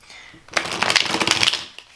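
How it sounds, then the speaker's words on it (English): Tarot cards are shuffled in a quick burst of crisp, rapid riffling clicks close to the microphone, starting after a brief quiet moment and fading toward the end. "I can't shuffle today."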